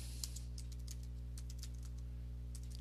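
Faint, quick keyboard typing as a name is entered on a computer, a scatter of light taps over a steady electrical hum.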